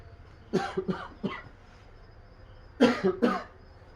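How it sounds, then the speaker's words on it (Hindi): A man coughs nearby in two clusters, three harsh coughs and then two more after a short quiet gap, loud and close with no speech around them. "मैं बार बार बीच में खांस रहा हूँ"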